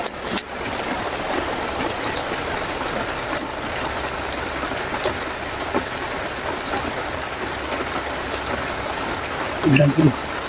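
Steady rain pours down in a dense, even hiss that lasts throughout, and a voice briefly speaks near the end.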